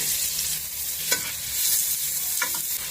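Garlic and onion sautéing in a hot pan for sotanghon, a steady close sizzle broken by a couple of sharp scraping stirs, with no talking.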